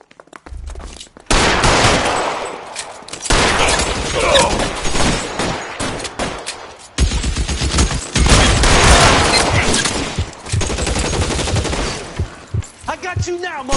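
Shootout gunfire in L.A. Noire: loud, sustained bursts of rapid shots with booming reports, pausing briefly and resuming across the stretch, with voices shouting in between.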